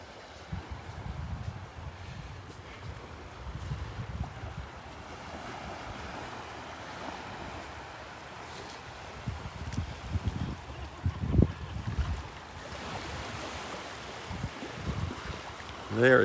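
Ocean surf washes ashore on a sunny morning at Delnor-Wiggins beach, a steady broad rush of waves with wind buffeting the microphone and brief bumps of handling, no talk.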